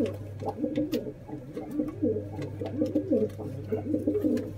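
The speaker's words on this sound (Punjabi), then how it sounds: "ਇਹ ਹਰੀਆਂ ਅੱਖਾਂ ਦਾ ਕਬੂਤਰ ਹੈ ਤੇ ਡੱਬੀਆਂ ਕਬੂਤਰੀ" Pigeons coo in repeated soft, rolling phrases, a green-eyed male and a spotted female among Malwai pigeons in Ludhiana, steady and close with a low hum beneath.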